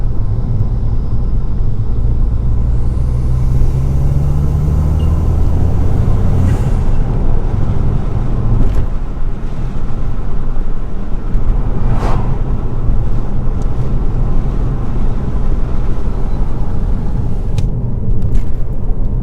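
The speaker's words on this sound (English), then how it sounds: "there is definitely more turbo noise coming directly from the turbo inlet on this side of the car" A Ford Fiesta ST180 engine with a crossover pipe pulls hard accelerating from third gear, a steady loud rumble with a rising airy turbo whoosh on top, plus wind buffeting throughout.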